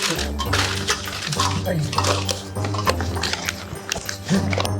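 Metal utensils and household belongings are thrown about, making repeated crashing clatters and clanks. Voices and what sounds like a dog are mixed in.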